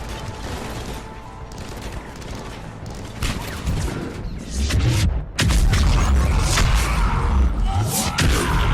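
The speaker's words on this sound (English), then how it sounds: "Cerberus spamming their smoke grenades and their frags" Cerberus enemies' smoke and frag grenades going off in the PS3 game Mass Effect 3 (Omega DLC, Insanity difficulty), amid rattling gunfire. A loud blast hits about midway, followed by a dense, booming din of combat.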